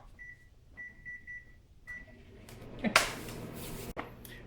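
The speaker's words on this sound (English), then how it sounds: "while the cake is microwaving" A microwave oven runs while a pineapple upside down cake cooks inside, with a few short beeps early on, then a louder burst of rustling and clatter and a sharp click near the end, with no talking.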